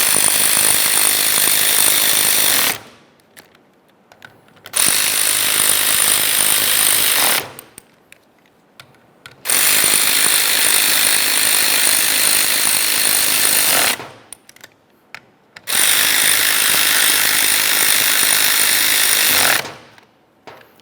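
A power wrench drives the steering column mounting bolts on a 2001–2005 Ford Explorer Sport Trac in four loud, rattling bursts of a few seconds each. Short pauses separate the bursts, the tool is close, and no one talks.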